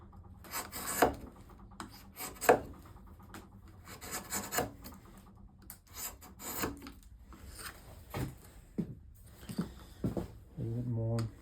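A file rasps against wood to clean up a taper on a foot stool part, with irregular short scraping strokes, close and moderately quiet, with a few pauses between passes.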